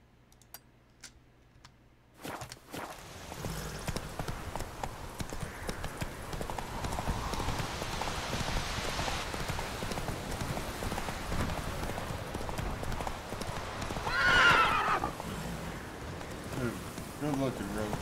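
Roach the horse's hooves clip-clop steadily in The Witcher game, a brisk rhythmic trot that starts after a brief quiet moment and carries on throughout, close and moderately loud, under occasional talking.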